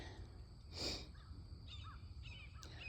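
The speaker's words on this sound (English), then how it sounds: "I hear the crows out there" A crow caws once in the distance, faint against a low outdoor rumble, followed by a few softer bird calls.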